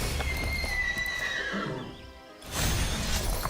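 A horse neighs loudly in a video game, a long shrill whinny up close over a busy game soundscape, which drops out briefly before the noisy backdrop returns.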